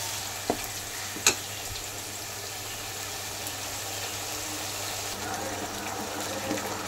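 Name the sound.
spice paste and yogurt being stir-fried in a pan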